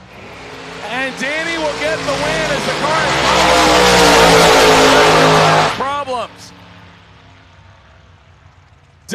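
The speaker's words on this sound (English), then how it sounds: "Danny gets away with one there as the car coughed and sputtered off the starting line" Street roadster and another drag car launching off the starting line at a Halloween drag racing event at SGMP, one engine coughing and sputtering; loud revving swells over several seconds then cuts off, under a track announcer's commentary.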